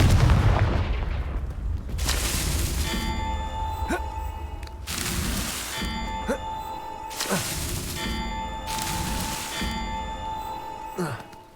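Hogwarts Legacy gameplay with the Confringo fire spell: repeated booming explosive blasts sound in a rhythmic series, each with a ringing metallic tone and a rumbling tail, among other game effects.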